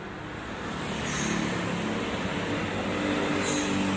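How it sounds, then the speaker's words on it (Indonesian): Cars go by on a road outside a residence under an overcast late-afternoon sky, a steady broadband traffic rumble that swells slightly and holds, with no voices. "Banyak sekali mobil lalu lalang pada sore hari ini"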